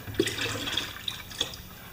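Distilled water poured from an old gas jug into antifreeze while refilling the coolant of a 1998 Chevrolet truck after a thermostat change: a steady close trickle with a few soft glugs and splashes, no talking.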